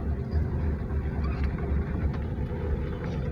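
Steady low rumble of a car rolling along during driving practice on a figure-eight training track, a continuous engine and road drone with wind buffeting, no voices.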